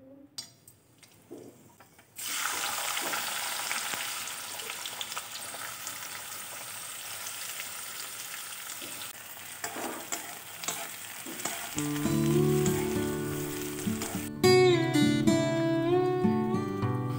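Marinated chicken fries in a kadai, starting with a loud hiss that turns into continuous close sizzling. Stirring and clinks of a utensil on the pan come through, and background music enters near the end.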